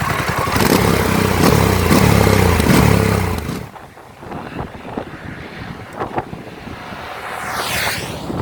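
A Harley-Davidson Pan America motorcycle rides along with its engine droning under heavy wind buffeting on the microphone, loud at first, then easing off into quieter rumbles and gusts.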